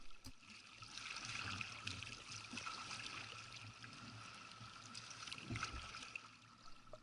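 A kayak paddle dips and pulls through open water in Dixon Entrance, producing a soft, continuous wash and trickle of water with faint splashes, fairly quiet and without voices.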